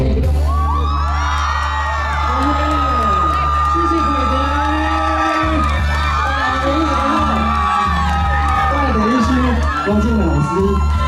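A crowd at an outdoor memorial concert evening in Liuying, Tainan, cheers, whoops and shouts loudly while a singer is welcomed, with music and voices layered underneath throughout.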